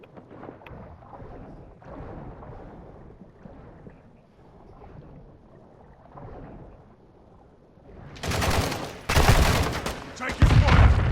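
Gunfire in the video game Call of Duty: quieter mixed game noise at first, then loud bursts of rapid shots in the last few seconds, with a voice speaking in the background.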